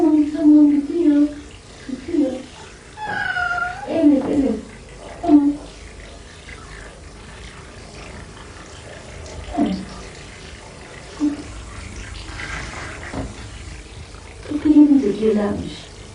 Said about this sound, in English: Angora cat, also called Marvish, is a female.